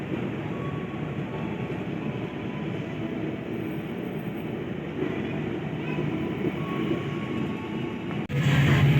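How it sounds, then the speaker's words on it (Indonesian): KA Penataran train pulling out of Kertosono station in Indonesia, heard as a steady, loud rumble of rolling wheels and carriage noise throughout, with a brief sharper jolt near the end. "KA Penataran sudah diberangkatkan dari stasiun Kertosono."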